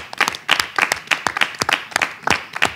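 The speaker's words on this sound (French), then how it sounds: "on va applaudir Bertin" A live studio audience claps in tribute to Bertin, close and loud, with distinct rhythmic bursts of hand claps roughly every quarter second throughout, no talking.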